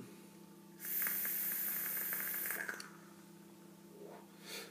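Vapour exhaled from an e-cigarette running East India e-liquid, a steady close breathy hiss lasting about two seconds, with a faint second puff at the end.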